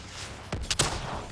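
An explosion in Call of Duty: Black Ops 3, a few sharp blasts in quick succession over a low rumbling game background, moderately loud and close.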